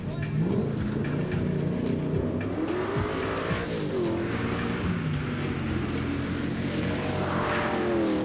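Race car engines roar and rise in pitch as they accelerate up a hillclimb course, loud and continuous, with revving shifts and a faint tire squeal.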